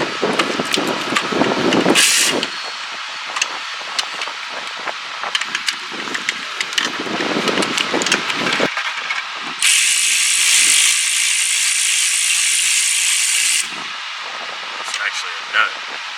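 A ratchet with a 15mm socket works a starter nut loose on an H3 Hummer, giving quick clicking bursts and then a longer steady ratcheting run, with someone talking in between.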